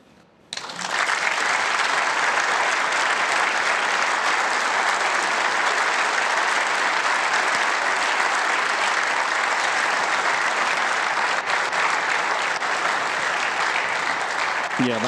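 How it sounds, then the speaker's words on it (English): A sustained burst of applause from a large crowd at a snooker match, loud and steady, rolling on without a break for many seconds. "that's the burst of applause"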